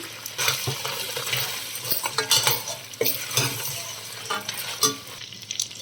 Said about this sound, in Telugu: ఇప్పుడు అల్లం వెల్లుల్లి పేస్ట్ వేసుకుందాం